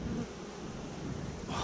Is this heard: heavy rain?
no